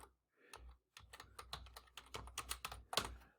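Quick bursts of keystrokes on a computer keyboard, close and fairly quiet, with short pauses between runs of typing and no speech.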